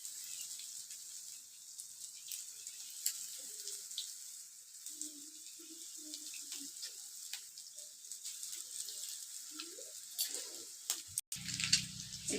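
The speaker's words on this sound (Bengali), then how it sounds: "চিলি চিকেনগুলো এক সাইড খুব ভালো করে ফ্রাই করে নিতে হবে" Chilli chicken pieces frying in a pan give off a faint, steady oily sizzle and hiss that runs continuously, with a few soft clatters near the end.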